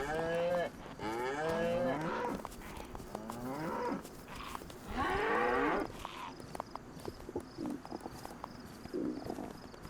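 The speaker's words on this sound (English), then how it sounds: "Damn zombies chasing cows." Cows in the video game DayZ moo repeatedly, several long drawn-out lowing calls in close succession with hoof clip-clop beneath, fairly near and alone without talk.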